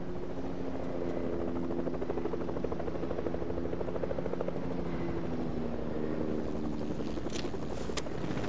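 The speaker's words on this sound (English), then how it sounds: "Incoming chopper." Helicopter in the Fortnite video game, a steady rhythmic rotor chop approaching at moderate distance, heard alone without talk.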